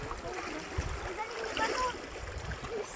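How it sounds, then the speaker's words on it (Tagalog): River water rushing and splashing at a wide river in Pangasinan during a picnic, a continuous broadband flow with occasional splashes, close by, with people talking over it. "Ang luwang naman ang ilog dito."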